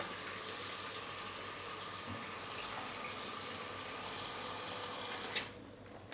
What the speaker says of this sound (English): So basically, crab in a bowl, add some water.